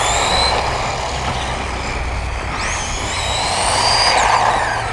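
A WLtoys 20409 Agility 4x4 1/20-scale RC truck speeds along outdoors on grass, its small electric motor giving a steady high whine that rises and sweeps in pitch as it accelerates, close and continuous, with no talking.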